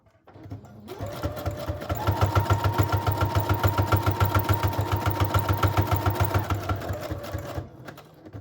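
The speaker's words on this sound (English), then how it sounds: "And I'm going to do a zigzag stitch for this." A sewing machine runs a zigzag stitch, a fast even mechanical whir with rhythmic pulses lasting several seconds, close and clear, then slowing to a stop.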